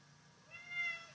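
Doodle, a house cat, gives one short, faint meow in a quiet room.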